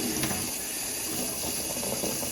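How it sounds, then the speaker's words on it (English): Tap water runs steadily while dyed 100% cotton six-stranded embroidery floss is rinsed with a little washing-up liquid, giving a continuous broadband splashing hiss at moderate, even loudness with no voices. "I'm going to keep rinsing this through until the water's running clear"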